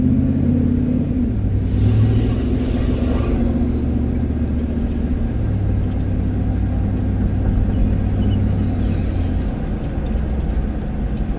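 Car interior during a morning drive: a steady engine rumble and road noise, with gear-like shifts in engine pitch and no talking.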